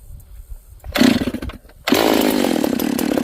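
A ported Stihl 038 Magnum chainsaw, warm after sitting about half an hour and started without choke, pulls over with a short burst, then fires and roars steadily at close range.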